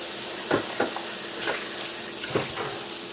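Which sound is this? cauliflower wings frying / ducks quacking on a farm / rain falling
cauliflower wings frying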